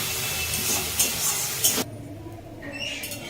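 A steady, loud hiss of something frying in hot oil, dropping away abruptly partway through and returning more softly near the end.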